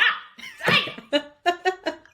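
A pet dog lets out a burst of short, close barks and yips, first a few uneven ones and then a quick run of sharper barks.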